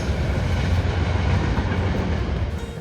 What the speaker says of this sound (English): trains still pass through Pamplin City